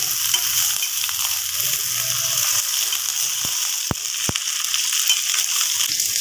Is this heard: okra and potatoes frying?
yes